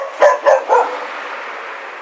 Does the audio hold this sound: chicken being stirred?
no